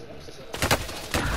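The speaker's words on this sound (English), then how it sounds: "Oh, someone's shooting at me!" Gunfire in the Call of Duty Warzone video game, a few loud sharp shots bursting in after a quiet start, with the second burst following shortly after the first.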